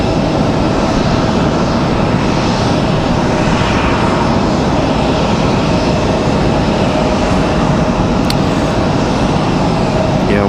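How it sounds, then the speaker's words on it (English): An American Airlines Airbus A321 jet arrives at Raleigh-Durham airport, its engine roar loud, steady and broadband throughout, with no voices over it. "It's going to be an A321."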